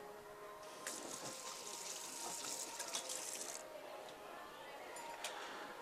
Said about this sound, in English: so I can wash my hands again